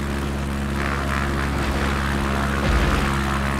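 A propeller airplane lands on a runway with its gear down, a steady engine drone with a low rumbling thump late on as it touches down.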